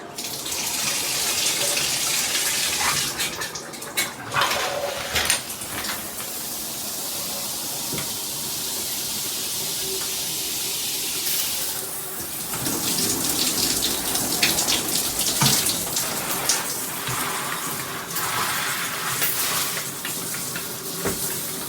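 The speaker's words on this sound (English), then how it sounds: "This shower is amazing." Water streams continuously from a 12-inch high-pressure rainfall shower head with handheld combo, a loud, even hiss that shifts slightly in texture as the flow hits surfaces, with no talking.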